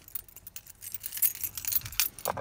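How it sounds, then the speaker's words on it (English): A set of car keys for a 3rd-generation Toyota Tacoma jangles in bright, clustered metallic bursts, close and fairly quiet, with no talking. "Let's get our keys"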